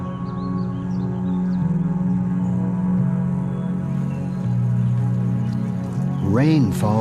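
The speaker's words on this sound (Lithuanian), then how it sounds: "Lietus plauna kambarius ir virtuves." Rain falls inside an abandoned, decaying house, a steady soft patter that runs throughout beneath sustained musical tones.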